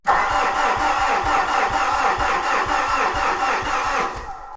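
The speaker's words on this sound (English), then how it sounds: "I'm going to crank the engine over" A Fuso truck's 4P10 diesel engine with a slow-crank, no-start fault cranks over with a rapid, even chugging rhythm from the starter, steady for about four seconds before cutting off.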